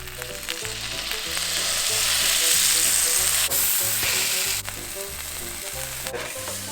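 Burger patties sizzling on a grill, a loud continuous hiss that swells in the middle, with a low rhythmic hum and a couple of sharp scrapes or taps near the end.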